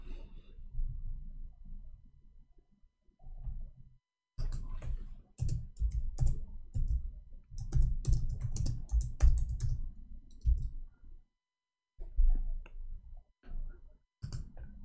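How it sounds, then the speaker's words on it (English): Typing on a computer keyboard, close and clear: bursts of rapid key clicks separated by short pauses and silent gaps, with no speech. "I will type 2021."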